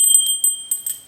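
A notification bell sound effect rings as a quick series of bright, high chimes, about six light dings in just over a second, clean and alone.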